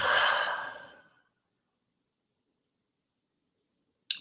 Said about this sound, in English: I'm starting to yawn already.